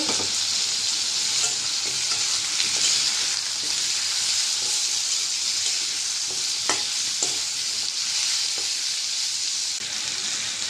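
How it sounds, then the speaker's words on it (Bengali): Onion and potato frying in a pan for a catfish and potato curry, a steady loud sizzle with occasional stirring clicks throughout, no voices. "পেঁয়াজটি একটু হালকা বেজে নেব পেঁয়াজের সাথে আলুটা একটু বেজে নেব"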